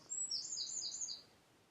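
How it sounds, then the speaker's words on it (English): Birds sing in a park: a short run of high, bright chirping notes in quick succession, faint and alone against a quiet background. "Listen to the birds singing."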